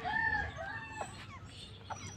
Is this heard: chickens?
yes